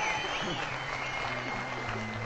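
Studio audience applause on a Turkish television talk show, a steady dense wash of clapping filling the whole stretch, with a faint voice underneath.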